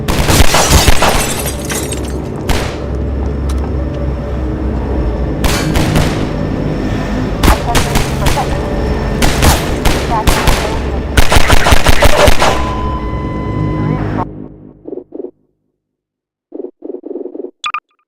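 Rapid gunfire from a gun in the video game Half-Life 2, loud dense bursts of shots in quick volleys with crashing impacts, then dropping off into silence and a few short electronic blips at the end.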